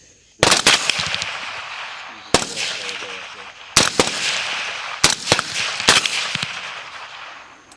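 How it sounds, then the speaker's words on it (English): Several sharp, loud gunshots, about five spaced over a few seconds, fired at a feral hog during a night hunt, each with a short echoing tail. A voice is faintly present in the background. "They're about to shoot it."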